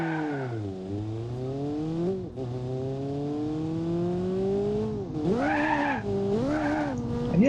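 An engine revs steadily with tires skidding as a car spins donuts in BeamNG.drive, a loud sustained whine that rises and dips, with squealing surges toward the end.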